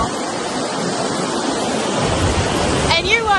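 Water from a waterfall roars as a steady, dense broadband rush throughout, loud and close, with a brief brighter burst near the end.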